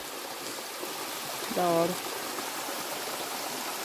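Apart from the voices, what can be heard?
water spring flowing beside forest trail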